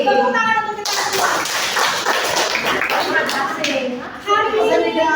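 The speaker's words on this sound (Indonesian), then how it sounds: "Tepuk tangan untuk kita semua." Clapping and tapping from an audience during a guidance and counseling session, dense and steady for several seconds, with voices mixed in.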